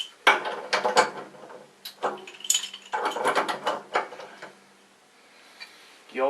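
Two wrenches tightening a fitting on soldered plumbing joints, producing close metallic ratcheting clicks and scraping in several uneven bursts, with short pauses between them.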